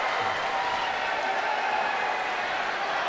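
Crowd in a gym at a varsity high school basketball game between McCormick and Abbeville applauding, a steady wash of clapping and cheering heard from a distance.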